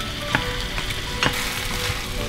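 Chicken and mushrooms stir-fried in a pan with oil and oyster sauce, a steady close sizzle broken by a few sharp scraping knocks of a spatula against the pan, with no one talking.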